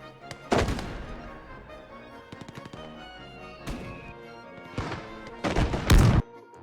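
Heavy cannon blasts from an anti-tank gun in the World War II game Gates of Hell ring out among scattered gunfire, with several loud booming reports and rattling shots across the battle, no talking.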